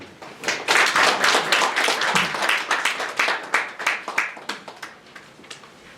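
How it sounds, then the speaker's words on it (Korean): Applause from an audience greeting the city mayor at an awards ceremony for civil servants and volunteers in Nonsan, dense clapping that starts loud and gradually thins out and fades over several seconds. "박수로 맞이해 주시기 바랍니다"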